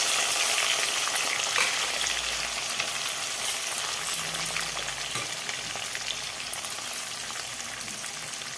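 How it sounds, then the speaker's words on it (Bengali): Chopped onions frying in spiced oil on a village kitchen stove, a continuous bright crackling sizzle with occasional stirring scrapes and clinks, close and steady throughout. "এবারে পেঁয়াজটাকে একটু ব্রাউন করে ভেজে নিতে হবে, শুধু ব্রাউন।"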